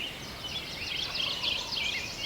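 A wild turkey gobbles in a rapid, rattling burst, distant and faint over steady outdoor background noise in the mountains, with no voices.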